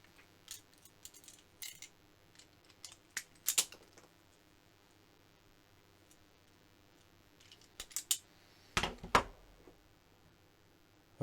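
Scissors or cutters snipping into a fake copper-coated steel cable, producing a few sharp, close clicks and crunches separated by quiet gaps, with a louder cut near the end.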